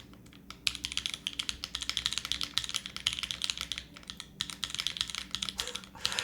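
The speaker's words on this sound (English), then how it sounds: "I'm just typing I love you chat over and over and over again" A prototype mechanical keyboard fitted with alpha keycaps is typed on continuously, producing a fast, close, crisp clatter of keystrokes with only short pauses.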